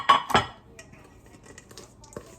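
Blondie batter goes into a prepared baking pan: two sharp clanks of a utensil against the pan, then soft, faint scraping.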